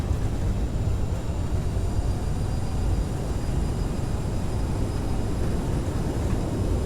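Jet engine roar from a CRJ regional jet with thrust reversers deployed on landing in MSFS2020, a loud, steady broadband rumble that holds at constant level throughout, with no talk.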